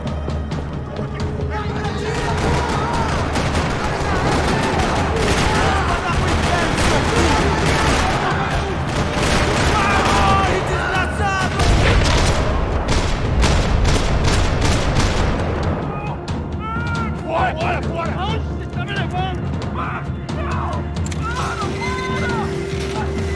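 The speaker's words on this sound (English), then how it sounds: "Another parking lot rattling with gunfire." Gunfire rattles across a parking lot in Max Payne 3, dense rapid bursts of shots with mechanical clatter, loud and continuous before thinning into scattered sharper cracks toward the end.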